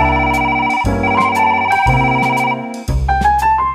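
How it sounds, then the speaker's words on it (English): A telephone rings with a loud, electronic melodic ringtone, repeating its tones clearly with no one talking. "There goes the phone."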